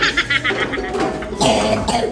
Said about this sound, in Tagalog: Inuubo na ng inuubo.